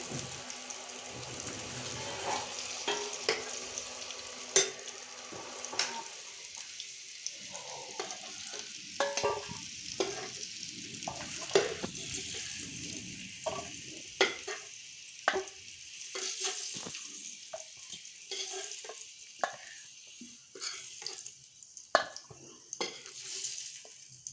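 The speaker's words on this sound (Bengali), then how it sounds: "এই দেখুন আমি আলুগুলো লাল লাল করে ভেজে নিয়েছি" Potatoes frying to a reddish brown in a pan for a chicken curry with potatoes, a long close sizzle with frequent spatula scrapes, clinks and taps of being lifted out, no talking.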